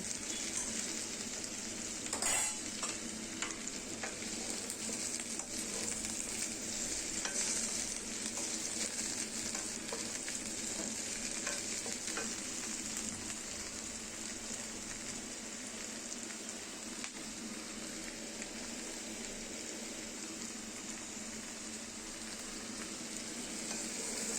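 Salted potatoes fry in hot oil in a pan, giving off a long, steady crackling sizzle like light rain, with a few scraping stirs early on and no voices.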